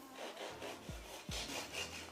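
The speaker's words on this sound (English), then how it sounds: "Ooh, do you hear that crunch?" Crunchy bites into a homemade Popeyes-style crispy fried chicken sandwich: two sharp, close crunches about half a second apart, followed by softer chewing crackle.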